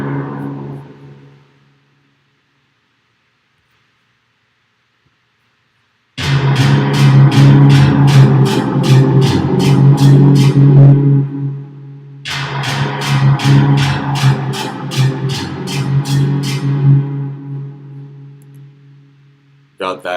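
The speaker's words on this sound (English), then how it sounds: "a much lower synth" A much lower synth part from a Logic session for a track plays in two loud sustained phrases with a steady pulsing rhythm, following a few seconds of near silence, with no voices.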